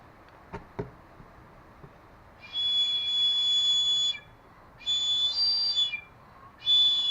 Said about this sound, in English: Sorry about the whistle.